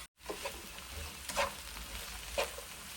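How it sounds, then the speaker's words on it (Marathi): Chilies and shredded lettuce tossed in a hot wok with garlic for rice noodle chow mein, a steady sizzle broken by a few louder scraping stirs, close and alone. "आणि आपण आता हे हलकंसं परतून घ्यायचं आहे."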